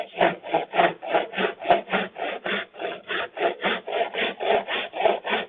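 Hand saw cutting through a clamped piece of wood in a school design technology workshop, with steady, even back-and-forth strokes, about three per second, heard close up and alone.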